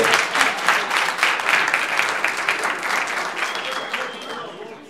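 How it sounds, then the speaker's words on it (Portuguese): Audience applause at a talk, a lively round of many hands clapping close by that gradually fades over several seconds, with a few voices faintly mixed in. "Palmas para ele!"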